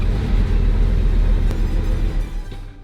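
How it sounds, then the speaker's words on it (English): A Bugatti Veyron engine misfiring on a few cylinders idles with a loud, rough, uneven low rumble for under three seconds, then cuts off abruptly. "Oh, now it was misfiring."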